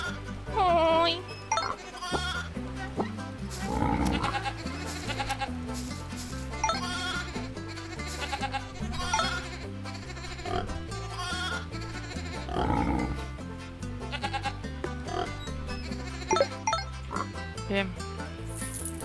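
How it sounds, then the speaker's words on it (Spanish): Sheep in the farm game Farm Frenzy 4 bleat several times over busy, repetitive background music and game sound effects. "Esa es una oveja, come pasta y proporciona lana para fabricar hilo."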